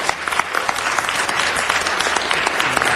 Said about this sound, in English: I want you to give him a rousing round of applause